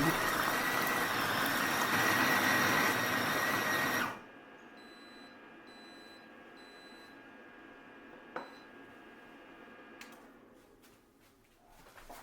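A Compact Cook Elite multicooker runs its program with a loud steady motor whir that stops abruptly, then three short electronic beeps sound over quiet background noise, followed by faint clicks.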